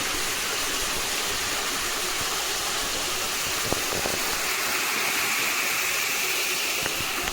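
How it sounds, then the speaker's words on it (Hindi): A waterfall in Cherrapunji, Meghalaya, roars with steady, dense rushing water, continuous and moderately loud with no break across the whole stretch. "क्या झरना है!"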